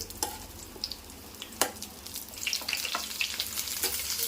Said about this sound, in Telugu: కాస్త బ్రౌన్ కలర్ వచ్చే వరకు కూడా మనం వీటిని రోస్ట్ చేసుకోవాలి